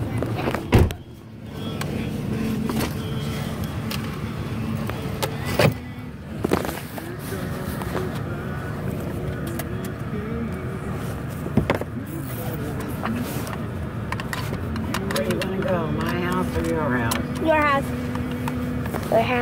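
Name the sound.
inside a moving bus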